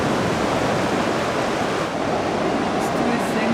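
Sea waves surge in a loud, steady, unbroken wash of broadband roar, heard up close with no pauses or voices.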